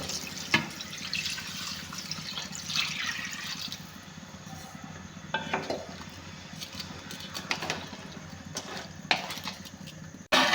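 Water pouring into a cooking pot for basmati rice in a home kitchen, a splashing, gurgling stream with a few drips and clinks, heard close with no talking.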